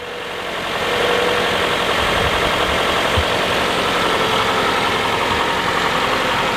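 An old Toyota RAV4 engine with recently changed oil idles at close range, a steady low hum and faint rattle that rises in level after the first second and then stays constant.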